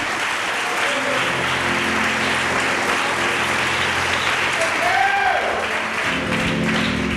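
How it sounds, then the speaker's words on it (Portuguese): A church congregation breaks into sustained applause, a loud, dense clapping that holds steady for several seconds, with a few faint voices calling out beneath it. "Aplauda o Senhor."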